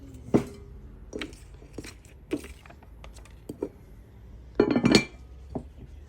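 Saucepans clink and knock together as they are handled, giving several short, bright metallic taps spread out over a few seconds, with a brief flurry of clinks near the end in a quiet room.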